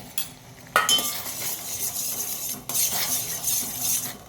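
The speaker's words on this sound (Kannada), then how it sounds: "ನುಗ್ಗೆ ಸೊಪ್ಪನ್ನು ಹೀಗೆ ಸ್ವಲ್ಪ ಕಲಡಿಸ್ಕೊಳ್ಬೇಕು" Drumstick leaves are stirred in a pot of boiling water with a spoon, giving scraping swishes and light metallic clinks against the pot over a bubbling background, close and fairly loud.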